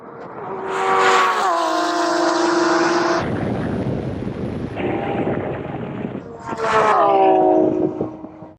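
A Lamborghini Aventador Ultimae and an SVJ drag race, with a loud V12 roar climbing through gears, a shift break, then another rising howl as the cars pass close; a voice may be faintly present.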